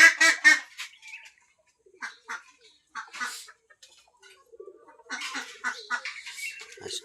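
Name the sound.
native duck calling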